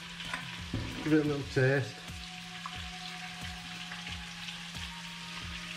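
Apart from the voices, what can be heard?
whisking milk into mashed potatoes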